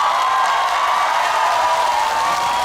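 Broad, continuous applause from a large outdoor audience at a Korean trot singer's performance at a health fair in Ulsan fills the whole stretch, dense and steady without any voices over it.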